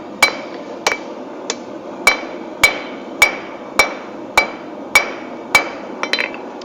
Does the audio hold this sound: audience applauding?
no